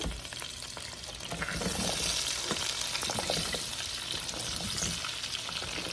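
Two pounds of potatoes frying in plenty of grease in a pan give a steady, loud sizzle and crackle throughout, with faint stirring or clattering and no talk.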